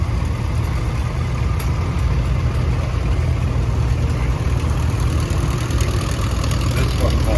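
A 1958 Ford Power Master tractor fitted with weights runs at a steady idle at an outdoor threshing show, a loud, close, even low rumble that holds unchanged throughout.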